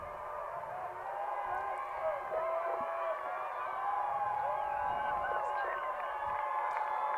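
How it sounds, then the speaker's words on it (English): High school football crowd at Harrison cheering for its defense, a steady distant roar of many voices with shouts and whoops rising over a continuous wash of noise across the stretch. "the Harrison crowd's getting loud, as you can hear"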